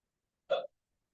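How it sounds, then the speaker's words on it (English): One short, sharp hiccup during a trigonometry class, isolated and close, with silence before and after. "I hiccup when I'm excited about trigonometry too sometimes."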